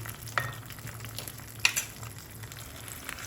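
Sizzling tempering of dal and curry leaves for tomato chutney, a low steady fry with a few sharp clinks and scrapes of stirring, close and unaccompanied by voices.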